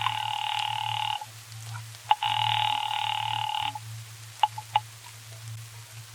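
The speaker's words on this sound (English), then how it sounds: "Ringing the police department." An old-style telephone rings in a 1940s radio drama, two long bursts of ringing with a pause between, followed by a few short clicks over a steady low hum.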